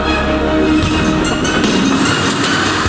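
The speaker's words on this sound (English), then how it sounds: "A train leaves Paddington station." A train rumbles and hums steadily with a loud, continuous drone as it leaves London Paddington station at rush hour, with faint clacks and squeals from the wheels as it moves off.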